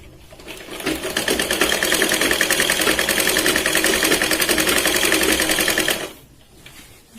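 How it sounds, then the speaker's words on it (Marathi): A sewing machine double stitches a katori blouse, running close and loud in one steady, continuous whir for about six seconds before stopping abruptly. "तर याच पॉइंट पासून सुई न काढता आपण इथे डबल शिलाईन लावत परत सेंट्रल पॉइंट पर्यंत जाऊया."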